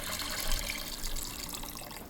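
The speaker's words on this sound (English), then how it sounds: "Then add 4 cups of vegetable broth" Vegetable broth pours into a pot with a continuous, faint, soft rush of liquid.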